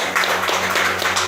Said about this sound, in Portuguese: Vamos receber o pastor César com palmas para o Senhor Jesus.